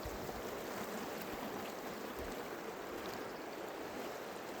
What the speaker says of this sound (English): A little bit of rushing river.